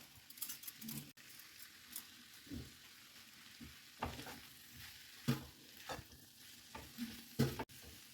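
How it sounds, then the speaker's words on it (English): Carrot and beetroot stirred and cooked together in a pan, a quiet low sizzle under irregular scraping and clinking strokes of a spoon, close but faint, with no talking. "cook this along with the beetroot for a minute, mixing it thoroughly"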